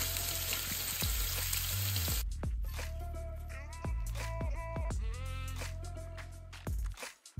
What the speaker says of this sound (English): you got to shallow fry the buff rim